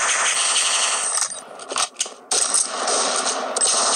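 Rapid automatic gunfire in a shooter video game, dense crackling bursts that briefly drop out in the middle before resuming loud and continuous.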